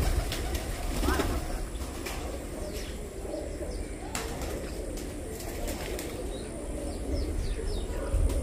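Pigeons cooing near their perch, soft low coos blending into a steady outdoor background, faint and partly masked, with occasional chirps and brief wing sounds.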